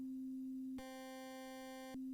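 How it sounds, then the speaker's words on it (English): A synthesizer plays a pure, steady sine tone that abruptly switches to a buzzier, harmonic-rich tone for about a second before the plain sine returns, clean and isolated with no voices. "we've got a basic sine wave"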